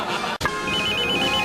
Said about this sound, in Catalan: Es tu móvil, cógelo.